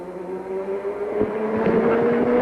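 A 350cc Grand Prix racing motorcycle engine at the 1983 Indian Grand Prix, ridden back toward the paddock, gives a steady droning note with rising intensity and wind noise, heard alone at moderate distance.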